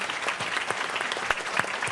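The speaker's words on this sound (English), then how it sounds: "Let's give the Superintendent Student Advisory Council a round of applause for all their hard work and dedication." Steady applause from an audience at a New Orleans public meeting honoring a student advisory council, dense continuous clapping that fills the whole stretch at an even level.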